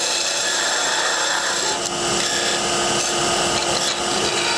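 A parting tool cuts a wooden tenon on a lathe, down toward 3/8 inch, giving a steady, continuous rasping scrape that stays loud and unbroken throughout with no talking.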